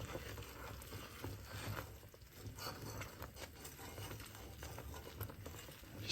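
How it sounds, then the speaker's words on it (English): Homemade caramel of sugar and water being whisked in a pan makes a soft, continuous scraping and bubbling patter, quiet and close, with no speech. "Just continue to whisk"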